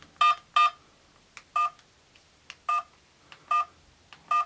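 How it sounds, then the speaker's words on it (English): Keypad tones on a Binatone Blade flip phone: seven short electronic beeps at uneven intervals, each clear and close, separated by faint clicks of the buttons. "Come on, keypad tone."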